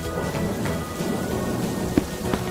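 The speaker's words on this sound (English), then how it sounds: "It's raining, and Peppa spots her rainbow umbrella" Steady rain patters over a cartoon scene with low thunder rumbling beneath, a couple of sharp drop or crack accents standing out, with no voices.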